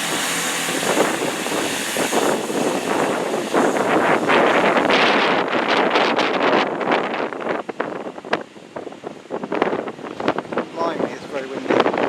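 Steady wind buffeting the microphone at Banbury railway station, a loud broadband rumble that roars continuously with gusty swells throughout.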